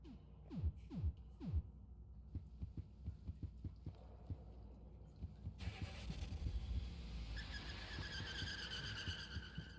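An evil car in the video game Look Outside rumbles low and throbbing, pulsing engine surges opening the scene before a steadier droning hum takes over with a faint whining tone on top.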